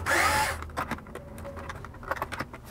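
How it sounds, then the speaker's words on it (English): A Hitachi drill driver fitted with a security bit whirs loudly for about half a second while removing screws from a Nintendo Virtual Boy, followed by quieter clicks and handling noise. "I am actually using the security bits here that I can just use in my Hitachi drill driver that I like to use"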